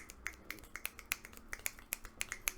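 Finger snapping used as applause at a poetry slam, many crisp snaps in a steady, slightly uneven rhythm, close and fairly loud, with no talking.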